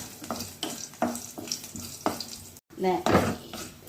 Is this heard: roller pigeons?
no